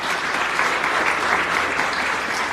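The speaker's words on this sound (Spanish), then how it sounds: "Un aplauso." Loud, dense applause from a gathered crowd, continuous and close throughout.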